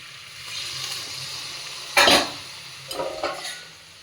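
Onion and tomato masala for a puti fish curry sizzles in a pan as a spoon stirs it, with a sharp scrape near the middle and a few more clinks and scrapes against a soft frying hiss.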